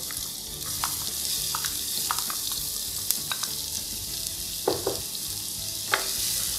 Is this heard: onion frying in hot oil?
yes